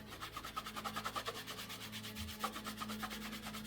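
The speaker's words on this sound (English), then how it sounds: "just keep buffing away. Circular motions apparently work the best." Cloth buffing Proofhide into a Brooks B17 leather saddle in circular motions, a steady run of soft rhythmic rubbing strokes, close and continuous with a low hum underneath.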